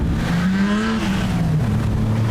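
Production sedan race cars roar around Rockhampton Speedway, a dense, loud engine drone with rising and falling revs from several cars running close together.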